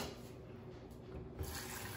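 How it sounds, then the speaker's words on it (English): A potato is rinsed under a running kitchen tap, the water pouring in a steady, close rush that shifts slightly in tone as the potato moves under the flow. "Rinse the potato."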